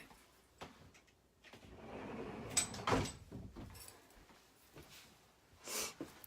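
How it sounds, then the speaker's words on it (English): A door slides and bumps shut with a soft thud and a metallic click, followed by a quieter rustle. "Let me close my door real quick."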